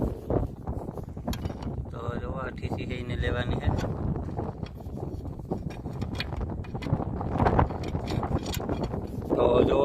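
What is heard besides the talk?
wind blowing outdoors on farm field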